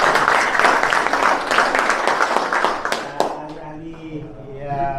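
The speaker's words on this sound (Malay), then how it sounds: "Berikan tepukan kepada mereka." Crowd applause greets members of a 4x4 club convoy at the Malaysia–Indonesia border, a dense patter of clapping that fades out after about three seconds, followed by a lone voice speaking into the quiet.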